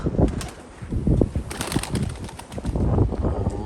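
Pigeons flap their wings in flight, a run of close, fluttering bursts that rise and fall over a few seconds, with no talk.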